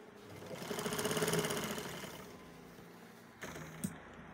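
Sewing machine stitching a kurti sleeve: a close, rapid mechanical whirr that builds and fades over about two seconds, then stops with a few clicks and a brief restart, with no talk.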